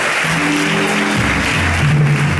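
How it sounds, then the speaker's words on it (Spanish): Loud, dense applause from a church congregation during a sermon, a steady continuous roar of clapping with a sustained organ or keyboard tone beneath it. "un aplauso más fuerte, que sonó bastante"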